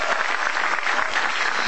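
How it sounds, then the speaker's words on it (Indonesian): Stand-up comedy audience breaks into steady applause, a dense even wash of clapping that holds at the same level throughout the short burst with no voices over it. "Tepuk tangan dulu dong."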